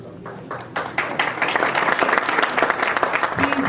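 An audience at a Harbor City, Maryland chapter gathering breaks into applause for standing chapter members, clapping starting sparse and quickly swelling into full, lively crowd applause, close and loud, with a few voices mixed in.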